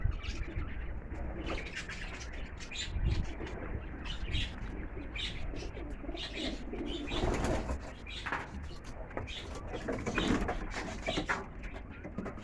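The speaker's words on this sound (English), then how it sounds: "Birds are doing well." Pigeons coo softly and chirp outdoors, with bursts of wing flapping mixed in, while a steady low background murmur runs under the calls throughout.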